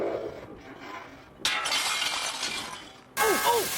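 A bottle launched off a simple lever goes flying across a room and smashes with a loud glass shatter, a crash and clinking shards following a short quieter stretch.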